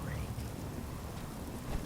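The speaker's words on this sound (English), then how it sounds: "Get out of this infernal rain" Steady rain falling in the Fallout 4 wasteland, a dense hiss with soft patter that holds even throughout, with a faint voice murmuring underneath.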